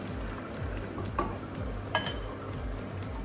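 Goat caldereta fries in a pot while being stirred, a steady hiss and rustle with two brief metallic clinks of a utensil against the pot, close and uninterrupted by speech.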